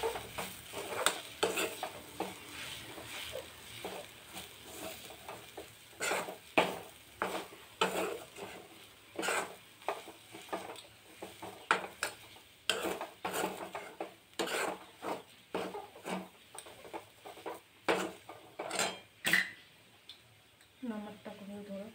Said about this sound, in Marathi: तुरीचा हे करून घेतला आहे पेस्ट ते टाकून घ्यायचं। परतून घेऊ आपण याला।